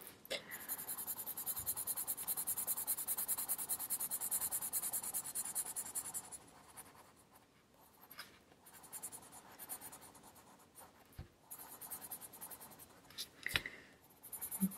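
Colored pencil scratching over paper while curls are filled in, a steady close scribbling that runs loud for several seconds, then turns lighter and more broken with short strokes.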